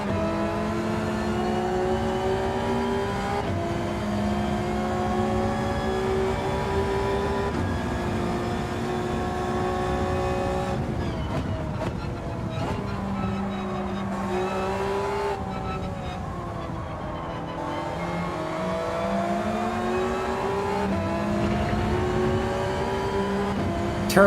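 Turbocharged Toyota Supra GT500 race car in Gran Turismo 7, its engine droning steadily and rising in pitch through successive gears, with brief drops at each shift and a short lift around the middle, heard alone over a long stretch.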